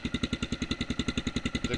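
Idle of a 2008 Kawasaki KLR650 motorcycle engine fitted with a louder CZR aftermarket exhaust, a rapid, even thumping pulse close to the microphone.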